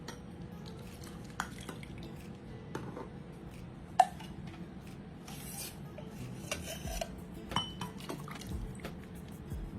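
A spoon stirs a falooda milk drink with ice in a glass, giving soft swishing and intermittent clinks against the glass, one sharper knock among them, close and quiet, without talk.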